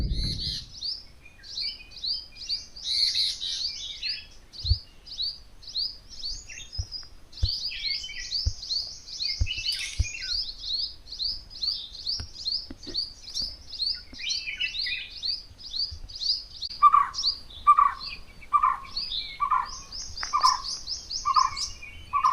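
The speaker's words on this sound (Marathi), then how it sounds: "इकडून आहे ना पक्ष्यांचा इतका आवाज येतोय ना" Many birds sing and chirp near a forest beside a large dam reservoir, bright overlapping calls running throughout, with a repeated lower call joining near the end; no talk.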